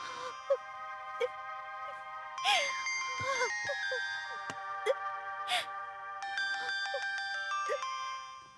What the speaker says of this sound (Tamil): ஓ, ஃபோன் அடிக்குது பாரு.